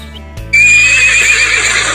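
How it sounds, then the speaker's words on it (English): A horse whinnies loudly and clearly, a single drawn-out neigh with a high, quavering tone lasting over a second, heard alone after a short quiet start. "horse,"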